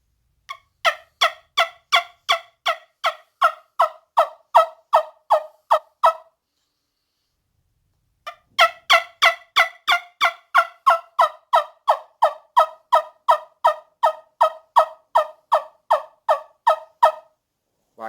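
A wingbone turkey call, cupped in both hands, gives two long runs of sharp, rapid yelping clucks in a steady rhythm, close and loud, separated by a brief pause, with no talking.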